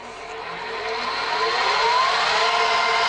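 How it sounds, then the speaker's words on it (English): A Powermatic drill press motor spinning up, a smooth rising whine that grows steadily louder and settles into a steady hum, close by with no talking. "it came time to plug in my new drill press and see how it works"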